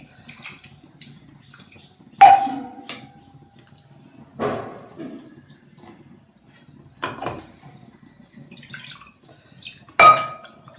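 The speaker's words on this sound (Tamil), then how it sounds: "கொஞ்சமாக அந்த மிக்சி ஜாரை கழுவி தண்ணி விட்டுக்கிறலாம்" Water sloshes as a mixer jar is rinsed and the rinse poured into a pan of coconut and tomato paste kootu, in several short splashing bursts with quiet pauses between.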